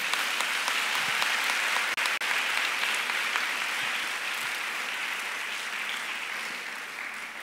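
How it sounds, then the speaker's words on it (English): An audience at a women's business conference gives a sustained round of applause for the keynote speaker, a dense, even roar of many hands lasting several seconds that tapers slightly toward the end. "I think our keynote speaker deserves another round of applause."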